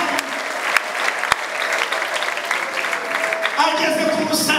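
A church congregation applauds during a sermon, producing a steady bed of many hands clapping at moderate loudness, with a voice and some higher-pitched sounds joining near the end.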